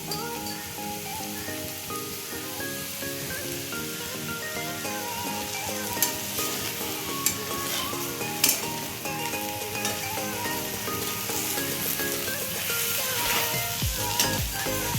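Capsicum, onion and chopped green chilli fry for chow mein, a dense continuous sizzle like rain on a surface, with occasional clinks and scrapes of stirring in the pan throughout.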